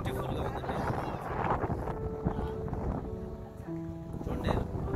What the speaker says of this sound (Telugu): చల్లని గాలి